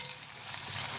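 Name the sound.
garlic and green chili frying in oil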